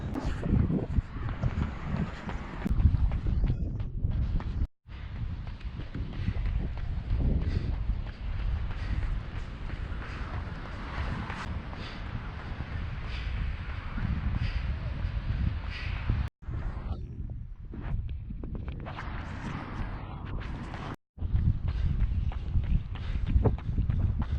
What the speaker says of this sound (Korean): 바람이 정면에서 불고